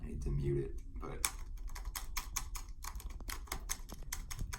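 Typing on the butterfly keyboard of a 2018 MacBook Pro laptop, a steady run of soft, muted key clicks and taps close by, continuous for several seconds with low background noise.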